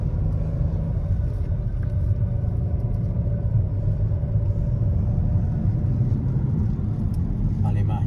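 A car drives through the town of Ballymahan, a steady low engine and road rumble heard from inside that stays level throughout, with a voice talking over it.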